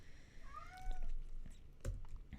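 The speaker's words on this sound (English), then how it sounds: "That's another cat." A cat gives a single clear, fairly close meow with a falling tone, followed by faint room noise and a couple of soft knocks.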